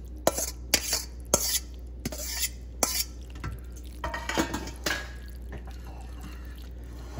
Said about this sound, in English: so I'll add the rest of our noodles in.